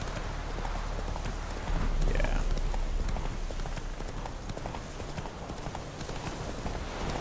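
A horse ridden in The Witcher 3 clip-clops along at a steady gait, hoofbeats rhythmic and fairly close, continuing throughout.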